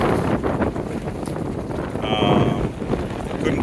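Strong wind buffets and roars across the microphone aboard a small sailboat, a John Welsford Navigator, in high winds on Duluth Harbor, with a low rushing of water and a brief flapping swell midway.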